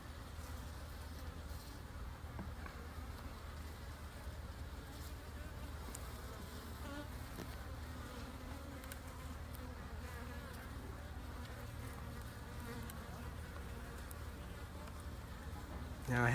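Honeybee swarm in a painted hive, giving a faint, steady, low buzzing drone that runs unbroken throughout, with no clear speech over it.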